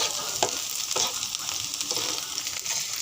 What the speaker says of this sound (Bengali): সেদ্ধ করবেন না এরকম তেলে হালকা ভেজে নিতে হবে